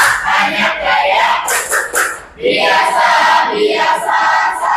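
Inside a classroom, students loudly perform a rhythmic clapping chant, with group shouts and claps close by and a brief dip partway through before the voices surge again.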